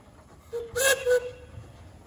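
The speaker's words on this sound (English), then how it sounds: "Nice whistle, do you have another?" A steam traction engine at the Ederville 2021 power parade gives a short whistle blast, a clear tonal shriek lasting under a second and heard nearby, with a faint rumble around it.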